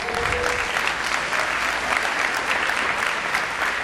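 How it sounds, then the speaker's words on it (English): Dense, steady applause from an audience at an 8th grade moving up ceremony, loud and continuous throughout with no speech. "I think we should have another round of applause for that"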